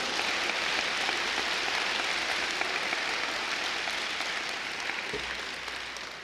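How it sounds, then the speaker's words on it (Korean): A church congregation at a Korean pastor's sermon applauds in a dense, even roar of clapping, like heavy rain, that holds steady and fades only slightly toward the end. "박수도 한번 쳐요"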